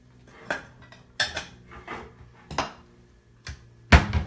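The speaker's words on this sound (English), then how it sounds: "I'm going to pull a bowl out for this one" Ceramic bowl and dishes clattering as a bowl is pulled from a kitchen cupboard, several separate sharp knocks and clinks spaced a second or so apart, ending with a louder clatter, close and alone.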